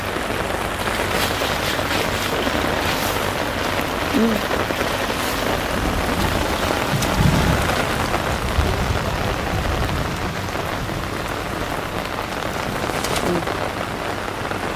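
Heavy rain pours down steadily during a storm on a cattle-buying trip, a dense constant hiss with faint low rumbles of thunder underneath and occasional voices.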